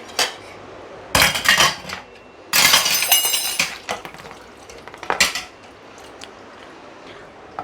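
Dirty plastic and steel dishes are loaded into an IFB VXPlus 15-place dishwasher, with loud clattering bursts of plates and utensils knocking together, several separate clusters of clanks and rattles between quieter pauses.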